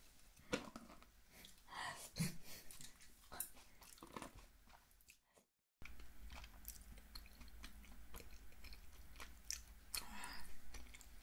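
Snow crab and scallops being eaten close to the microphone, with soft wet chewing, squishing and occasional crunchy bites in irregular bursts, a short silent gap midway, and no talking.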